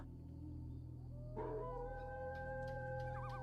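A dog's howl in a ghost story rises after a quiet, humming start and holds long wavering tones that bend at the end, over a steady low drone, with no voices.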